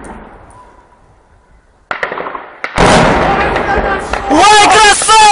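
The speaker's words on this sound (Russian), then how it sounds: "Выстрел!" A weapon fires at Donetsk airport during wartime fighting, a single sharp blast after a quiet stretch, followed by loud excited shouting and talking close by.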